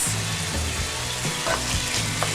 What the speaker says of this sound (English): Now we're going in with the carrots.